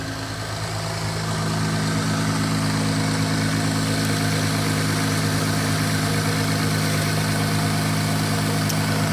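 An Acura car engine idles steadily nearby with a constant low droning hum and even vibration, and no voices are heard.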